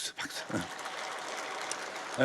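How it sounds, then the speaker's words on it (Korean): A church congregation at a Sunday service breaks into applause, a steady wash of clapping that swells after a brief spoken word and holds at a moderate, room-filling level. "박수"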